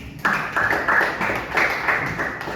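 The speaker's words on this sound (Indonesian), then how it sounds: "Ya, tepuk tangan untuk dia." A classroom of students claps for a classmate who answered a question. The clapping starts abruptly after a short pause and continues as a brisk, moderately loud patter for about two seconds.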